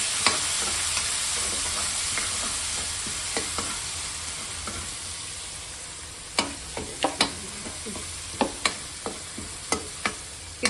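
Chili paste fries in a pan with a steady close hiss, while a spoon scrapes and taps against the pan in a run of sharp clicks that comes more often toward the end.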